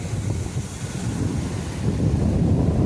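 Sea waves wash toward the shore near Jafrabad with a steady low rush, heavy wind buffeting the microphone and the surge swelling slightly toward the end.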